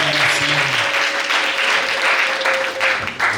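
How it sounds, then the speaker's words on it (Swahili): A church congregation at an EAGT ceremony breaks into loud, continuous applause mixed with high ululation, a sustained trilling tone riding over the dense clapping for the full few seconds. "Piga makofi na vigelegele wakati baba anasimama."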